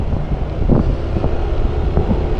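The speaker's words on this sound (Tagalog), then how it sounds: "Lakas pa ng hangin." Strong wind buffets the microphone in a steady, loud roar, with low rumbling gusts and no talking.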